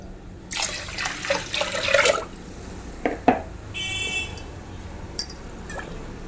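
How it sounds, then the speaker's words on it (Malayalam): Water splashes and pours into rice for cooking for about two seconds, then a few brief clinks and a short trickle follow, close by in a quiet room. "കുറച്ച് വെള്ളം കൂടി ഒഴിച്ചു കൊടുക്കാം"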